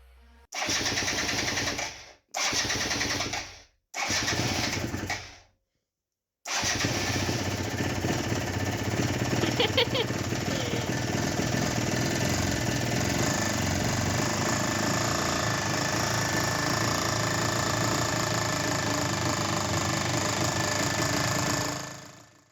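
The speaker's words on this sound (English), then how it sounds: "Bike fire when I cranked it, and it ran for a minute or two" A Yamaha TZR 125 4DL two-stroke motorcycle under restoration is cranked in three short bursts, pauses, then fires and runs steadily at a loud, buzzing idle close by for over fifteen seconds.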